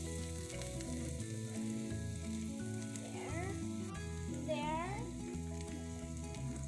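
Garlic sizzling and frying in a pan with a little margarine, a steady close crackling hiss under low background tones, with a brief word spoken.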